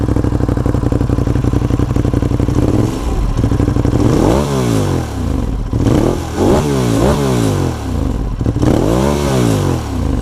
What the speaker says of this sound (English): let's get this thing cranked up so you guys can kind of hear it. All right, people, 2016 Ducati Monster 821.